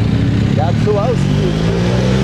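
A motorcycle rides alongside a cycling race at the 2023 Tour des Landes stage 1, giving a steady mid-pitched engine drone under continuous voices talking.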